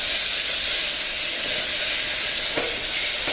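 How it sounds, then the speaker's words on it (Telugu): Ginger garlic paste sizzles steadily as it fries in a hot pan for mutton curry, a continuous close hiss with a brief stir scrape near the end. "ఇప్పుడు నేను బాగా వేగిపోయింది కాబట్టి అల్లం వెల్లుల్లి పేస్ట్ వేస్తానండి చూసారా"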